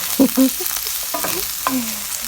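Garlic and chili stir-fry in hot oil for a Thai basil stir-fry, a close, steady sizzling hiss broken by short scraping and squeaking strokes from the utensil.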